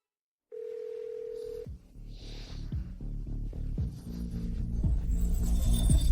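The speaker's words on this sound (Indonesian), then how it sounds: "Dia tak angkat telepon, sekarang malah mati." A telephone rings unanswered after a short steady tone, the line tones repeating beneath low rumbling background noise that grows louder toward the end, with no talk.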